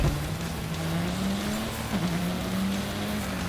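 A car slides across asphalt in the racing game Gravel with a long, steady tire squeal that wavers in pitch for several seconds over a constant engine drone.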